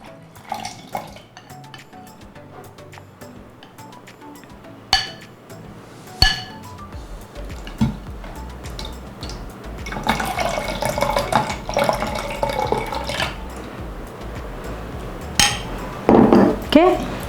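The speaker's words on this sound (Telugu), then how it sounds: "వెన్నని తప్పించి ఈ వాటర్, ఓన్లీ వాటర్ ఇందులో వెళ్ళేటట్టుగా వేసుకోండి." Whey water, with the butter held back, is poured into a blender jar for mango lassi, with a close, running splash and a few sharp clinks of the jar and utensils.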